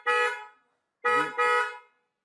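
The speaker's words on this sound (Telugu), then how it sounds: "సో ఇది మంచి పవర్ఫుల్ హారన్ అనమాట." An aftermarket car horn fitted to a Tata Punch blares loud and close in three strong harmonic blasts, one long honk followed after a pause by two in quick succession.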